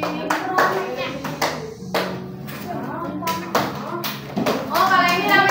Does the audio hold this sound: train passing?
no